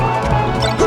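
A forward smash landing in a Super Smash Bros. Melee match, a dense crashing hit amid busy game sounds and crowd noise, lasting under a second.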